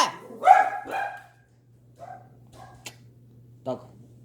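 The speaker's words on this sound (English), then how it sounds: "Dog." A dog barks several times indoors: a loud burst of sharp barks, then a few fainter, spaced yips, all over a steady low electrical hum.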